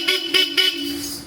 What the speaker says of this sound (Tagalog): Bubusinahin mo na pala.